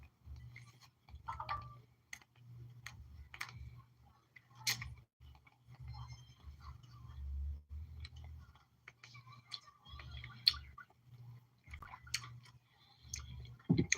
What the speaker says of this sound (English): Look at me chewing that gum like a horse.